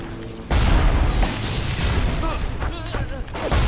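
A rocket turret in Bioshock is destroyed in a heavy, booming explosion that stays loud for a few seconds of crackling blasts, while someone talks over it.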